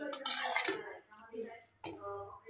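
Vermicelli stirred in a pan with a utensil, giving clattering clinks and scrapes of metal against the pan, loud at first and then in shorter bursts.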